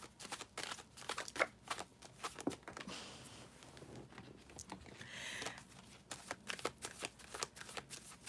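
A tarot card deck is shuffled up close, with a steady run of crisp papery flicks and riffling bursts at fairly low volume and no voices.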